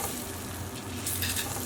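Corn sizzles in a pan with sticky BBQ sauce and ribs, a dense, close frying crackle with soft stirring movement throughout, no voices.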